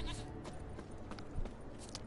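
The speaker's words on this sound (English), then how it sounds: "Goats." Goats bleat in short wavering cries in the video game The Witcher 3, several calls overlapping at close range against a busy background murmur.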